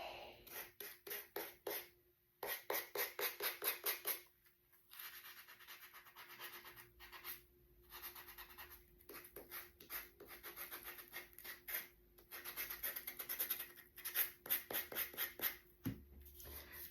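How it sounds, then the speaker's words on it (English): Sandpaper rubbed over a small wooden heart craft piece in quick rhythmic bursts of close scratchy strokes, with short pauses between sets and no talking. "Let me see if this will sand off."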